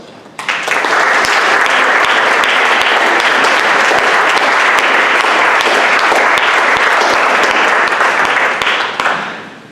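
A lecture audience applauds steadily to welcome visiting artist Philip Koch, a dense, loud wash of clapping that starts abruptly and holds for about nine seconds before fading, with no talk over it.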